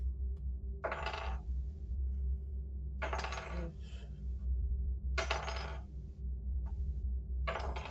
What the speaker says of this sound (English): Is that a metal dice you're rolling?